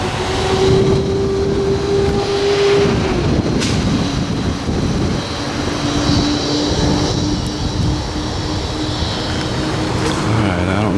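Helicopters and large planes pass overhead during Hurricane Harvey in Houston, a broad continuous roar of aircraft with a droning engine tone, steady and fairly loud throughout, with no talking.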